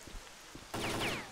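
Rain starting in the video game S.T.A.L.K.E.R.: Clear Sky: quiet ambience gives way abruptly to a steady hiss of rainfall with faint whistling tones for the last half second.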